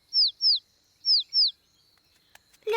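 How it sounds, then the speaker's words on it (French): Four short, high, downward-sliding chirps of a cartoon baby bird in two pairs, clear and close, followed by a faint steady tone and a few soft clicks. "Le bébé oiseau a très faim."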